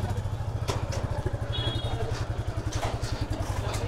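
A Royal Enfield Classic 350 motorcycle engine thumps in a steady, close, low-pitched rhythm of rapid regular beats, like a single-cylinder idle, with faint background noise.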